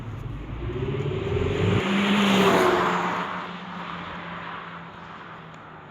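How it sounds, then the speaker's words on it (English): A Renault Megane RS 280 engine revs up with a rising exhaust roar that swells to a peak, then eases off into a steady drone. "hear the difference on the sound effect that the car makes when you put your foot down"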